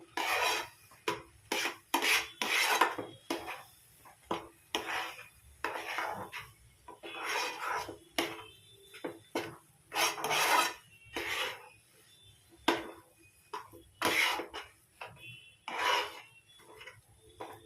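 Palm-flavoured batter dough being stirred continuously in a pan for pakan pitha, repeated rasping scrapes of a spatula against the pan in an uneven rhythm, close and loud with short gaps and no talk.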